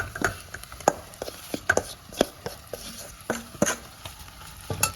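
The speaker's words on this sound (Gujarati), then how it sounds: "હવે આપણે મેશ કરેલા બટેકા એડ કરશું આમાં." A spoon mixing mashed potatoes into spiced aloo paratha stuffing in a bowl: a series of sharp, close scraping and tapping strokes at an irregular rhythm, fairly soft, with no talk.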